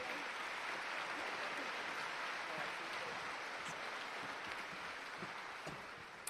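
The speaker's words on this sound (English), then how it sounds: "if we could give our platform a round of applause" Applause from a Labour Party conference hall audience for the platform speakers, a broad, sustained crackle of many hands clapping at moderate distance, easing slightly toward the end.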